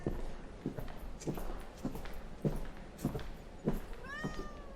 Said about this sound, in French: Oh, regardez un chat, il est adorable.